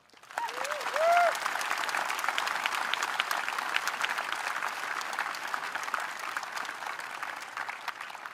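Steady applause from a large crowd at a high school graduation ceremony in the evening, sustained and even throughout with a brief tonal squeak near the start, at moderate distance.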